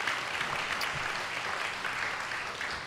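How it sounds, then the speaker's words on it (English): An audience in a hall at a talk on urban redevelopment in New Orleans claps steadily, a dense, even wash of applause with no voices over it. "So let's give them a round of applause for what Joshua and Robert have done."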